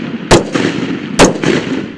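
Two sharp rifle shots of 5.56 rounds crack out about a second apart during army infantry live-fire training at Fort Benning, each followed by a rolling echo over steady background rumble.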